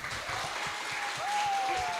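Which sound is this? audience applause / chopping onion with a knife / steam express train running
audience applause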